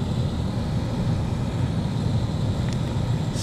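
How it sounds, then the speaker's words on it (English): The blower motor of a Hyundai Elantra 1.8L runs at its top speed, producing a steady low whooshing hum of moving air that stays even and continuous throughout. "Blower motor speed"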